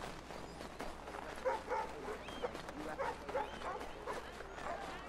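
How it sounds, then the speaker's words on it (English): Puppies bark in an Assassin's Creed 3 street scene in Boston, a string of small yips and whimpers at moderate distance, scattered and overlapping beneath soft ambient game noise. "All these puppies."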